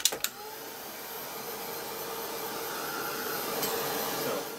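A heat tool or hair dryer blows a steady, continuous whoosh while drying a mixed media art journal page, starting with a couple of clicks and holding even, fairly close, without speech.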